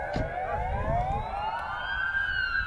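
Police car siren wailing near a fire in the Mamaia Nord area of Constanța, a loud sweeping tone over traffic rumble, continuous and fairly close.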